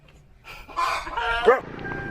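A dog barks and yips a few times in quick succession at moderate distance during outdoor caroling rounds in a barangay in Santiago City, brief and sharp over a faint background.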